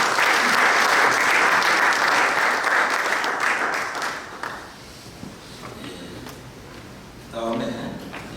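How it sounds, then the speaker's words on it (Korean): Audience at a church mission society general assembly breaks into loud sustained applause that tapers off after about four seconds, followed by scattered murmurs and a short burst of clapping near the end. "박수로 한번 부탁드리겠습니다."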